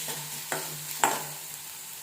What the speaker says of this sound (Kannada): ಈ ರೀತಿ ಈರುಳ್ಳಿನ ಹಾಕಿ ಚೆನ್ನಾಗಿ ಇದನ್ನು ಫ್ರೈ ಮಾಡ್ಕೊಬೇಕು.